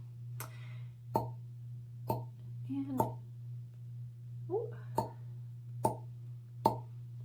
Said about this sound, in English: place the cup to my skin, and then pull it off quickly. So it should make this popping noise